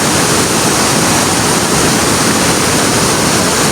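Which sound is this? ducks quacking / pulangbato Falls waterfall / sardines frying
pulangbato Falls waterfall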